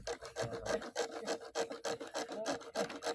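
A hand saw rasps through wood in quick, even back-and-forth strokes, steady and rhythmic at close range, during bathroom construction work.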